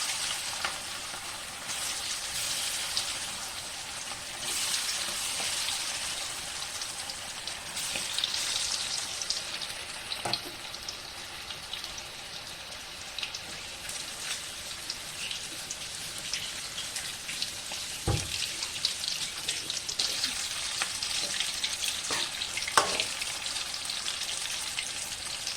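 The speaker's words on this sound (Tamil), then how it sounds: "ரெடி பண்ணி வச்ச மசாலா சில்லியை இப்போ எண்ணெயில் போடலாங்க." Masala-coated chilli chicken deep-frying in oil, a dense continuous crackling and bubbling like rain on a surface, steady and close throughout with a few sharper pops and no voices.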